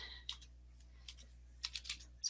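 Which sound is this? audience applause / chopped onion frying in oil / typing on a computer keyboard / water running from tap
typing on a computer keyboard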